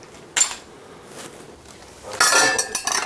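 Metal spoons clink and rattle together, a short jingle early on, then a louder, longer clatter of cutlery near the end.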